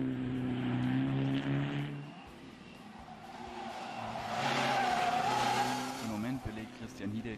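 A Mitsubishi Lancer Evo 6 rally car at a 2005 stage start in Styria: engine revs rise and fall, then sweep past loudly with a whining climb, while a commentator talks over it.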